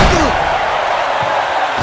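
A single heavy haymaker punch lands with a booming thud, followed by a short swooshing sound, in the boxing video game Fight Night Round 2 on PS2.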